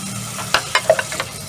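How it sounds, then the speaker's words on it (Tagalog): Onion sizzles in hot oil in a pan, a close steady fry punctuated by several quick knocks and scrapes of a utensil against the pan, no one speaking. "Tayo ay maggigisa na. So meron tayo dito kamatis, sibuyas. Lagyan na natin yung ating sibuyas."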